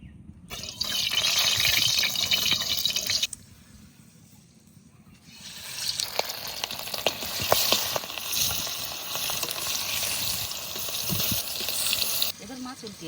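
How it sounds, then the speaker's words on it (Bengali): Hilsa fish frying in mustard oil in a pan, a loud steady sizzle that drops away briefly and then returns with crackling and spitting. "এবার সর্ষের তেল দিয়ে মাছটা ভেজে নিই।"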